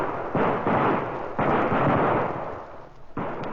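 Volley of Pennsylvania long rifles firing at distant poles 250 yards away in a radio drama, a series of loud booming cracks with rumbling tails, closely spaced, no speech.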